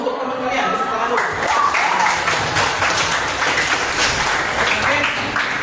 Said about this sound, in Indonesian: Tepuk tangan dulu untuk teman kalian.